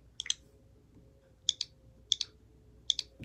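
Short bursts of keyboard clicks while typing a word into search in Minecraft on Nintendo Switch, four quick double taps spaced about a second apart, crisp and close over a quiet room hum.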